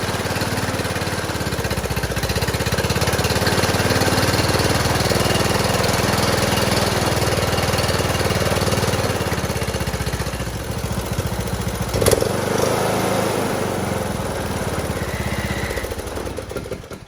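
A John Deere D100 riding lawn mower engine runs loud and steady up close, its droning rumble holding for most of the stretch before a brief dip, then carrying on to the end.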